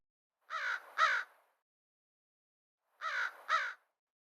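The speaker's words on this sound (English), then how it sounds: "Another crow is perching nearby, calling occasionally." An American crow perched in a windy winter spot calls in two separate bursts, each a pair of harsh, nasal caws, fairly close and clear against quiet surroundings.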